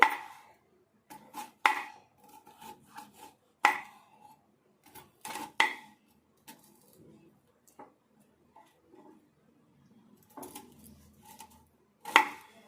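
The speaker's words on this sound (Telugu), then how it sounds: "కాకరకాయ ఇట్లా మధ్యలకు రింగులు కట్ చేసుకోవాలి." A knife slices bitter gourd into thin rings on a board, giving a run of sharp, close chopping taps in uneven bursts with short pauses between them.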